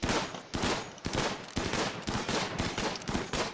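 Rapid bursts of gunfire from a RimWorld colony battle, with sharp repeated shots cracking out roughly every half second, loud and continuous across the whole stretch.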